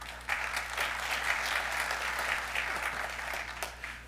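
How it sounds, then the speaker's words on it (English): Audience applause at a district cooperative meeting, a fairly quiet, steady patter of many hands clapping for a few seconds over a low electrical hum. "And particularly nice when you applaud the lawyer."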